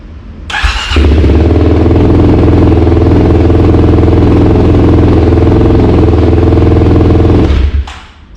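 A 2021 Kawasaki KLX300 with a Delkevic exhaust and its baffle removed, running loud and close: the engine catches after a brief start, then holds a steady raw idle for several seconds before cutting off.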